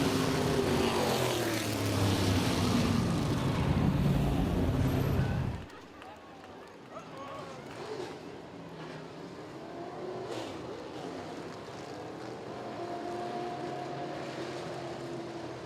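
Modified race cars roar past at Southside Speedway, a loud engine drone with shifting pitch that drops off abruptly, after which distant engine noise continues under an announcer speaking over a public address system.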